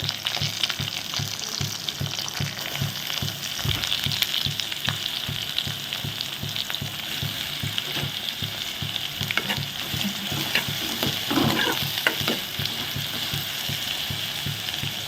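Chopped onion, curry leaves and green chilies sizzle steadily in hot oil in a pan for a spicy Tamil curry, with regular rhythmic scraping of a stirring spoon throughout and no talk.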